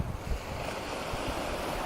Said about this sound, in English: Aha! The Pacific Ocean.